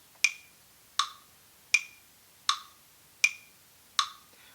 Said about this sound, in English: I've got my metronome set in a time signature of 2/2,